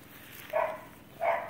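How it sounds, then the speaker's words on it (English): A dog barks twice, with a short gap between the two barks. The barks are moderately close, over a quiet indoor background. "I hear that doggy barking."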